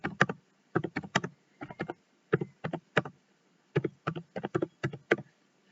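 Typing on a computer keyboard while writing a note in office software: quick clusters of close, crisp key clicks in several short bursts separated by brief pauses, with no talking.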